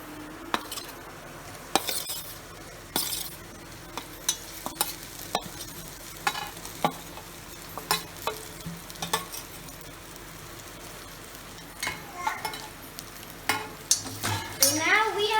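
Chopped vegetables for Indian-style tawa fry sabzi sizzle steadily on a hot pan while a utensil scrapes and clanks through repeated stirring strokes, the clatter close and irregular over a constant frying hiss.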